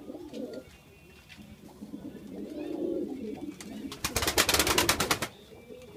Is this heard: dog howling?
no